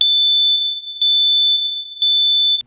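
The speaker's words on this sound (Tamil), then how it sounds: "ஒரு பக்கம் அலாரத்தோட பீப் சத்தம்" A home smoke alarm set off by cooking smoke blares close and loud in Canada. It gives three long, piercing high-pitched beeps in a steady repeating pattern, with nothing else heard.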